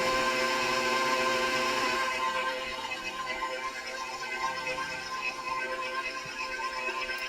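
Electric mixer beating cookie dough as flour is added, a steady whirring motor hum that drops slightly in pitch and loudness partway through as the dough thickens.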